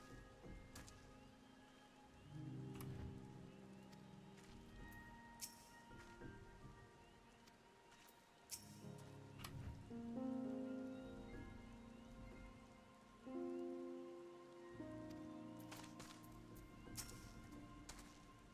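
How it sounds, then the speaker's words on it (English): Steady rainfall in the Final Fantasy XIV game world, a soft continuous patter with faint drops and scattered background game sounds, fairly quiet throughout. "It is raining, Nashu."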